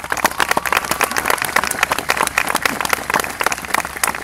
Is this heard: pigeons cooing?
no